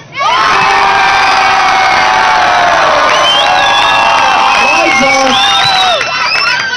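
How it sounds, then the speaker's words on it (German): A school class cheers, whoops and applauds loudly for a teacher at a 10th-grade graduation, with excited children's shouts throughout and a brief dip near the end before the cheering carries on. "Ein großartiger Applaus für Herr Krüsmann."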